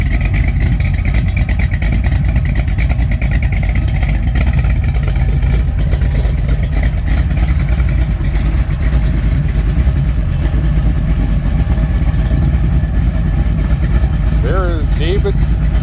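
A Mopar 340 small block V8 stroked to 416, fitted with a mild cam and built in 1969, runs steadily at a loud, dense idle for the whole stretch, heard from behind the car, with a brief shift in pitch near the end.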